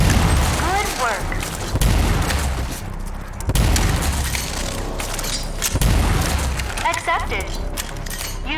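Weapon fire from the hyper cannon in the video game Rage 2, with several booming shots cracking out in bursts over an ongoing backdrop of game sound and a voice.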